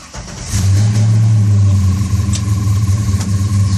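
A car engine catches and settles into a loud, close idle rumble, then revs slightly as the car pulls away to move to another shop.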